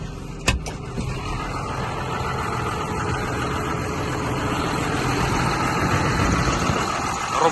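A John Deere 6530 Premium tractor engine idles steadily with a low, continuous rumble, preceded by a couple of sharp clicks near the start.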